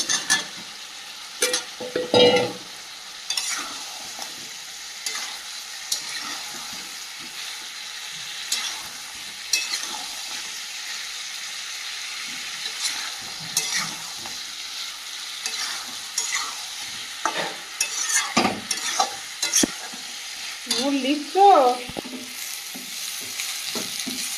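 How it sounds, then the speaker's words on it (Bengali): Fried potatoes stirred into a frying mutton curry: a continuous low sizzle under repeated scraping and clattering stirs of a spoon against the pan, close and fairly loud, with no talk. "ভেজে রাখা আলুটাও এই পর্যায়ে দিয়ে দেবো"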